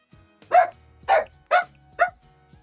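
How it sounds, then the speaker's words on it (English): Dogs barking indoors, four loud, sharp barks spaced about half a second apart, with a faint low hum between them and no talking. "Quit barking."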